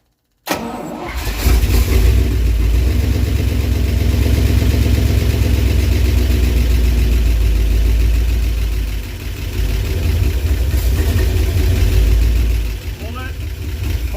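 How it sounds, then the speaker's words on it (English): A 1968 Dodge W200 Power Wagon engine cranks, catches and settles into a loud, rumbling idle that runs steadily for over ten seconds, with a brief dip in the middle and voices nearby. "We just need to hit that key and see if she'll start."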